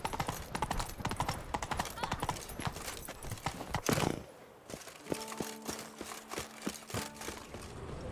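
Hooves of Roach, a horse in The Witcher 3 video game, clip-clop in a quick steady rhythm up close, followed by a brief whinny and then quieter ambience with a soft musical tone.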